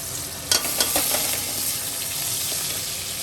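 Chopped garlic and ginger frying in hot oil in a wok: a steady close sizzle with a few sharp clinks and stirring scrapes near the start, then an even hiss throughout.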